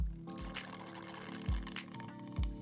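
A homemade water pump gurgles and burps as its water runs low, giving low glugging pulses over a running pour.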